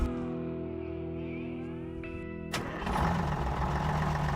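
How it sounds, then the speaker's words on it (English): A Detroit diesel engine on a fishing boat cranks and catches, a steady mechanical hum giving way to a sudden rough, rumbling roar as it fires up and settles into a loud, gravelly idle. "This is a Detroit diesel."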